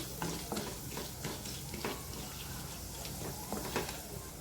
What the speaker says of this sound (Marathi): एक चमचा उडदाची डाळ घेतली आहे ती टाकते चण्याची डाळ उडदाची डाळ छान आपल्याला थोडी भाजवून घ्यायची आहे गुलाबी रंगावर थोडी